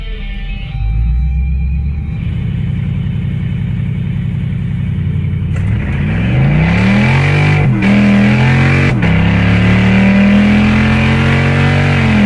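A Camaro fitted with a roll bar at a hot rod drag racing event starts with a loud, close, low rumbling idle, then revs hard, with engine pitch climbing and dropping through several surges before holding a strong roar.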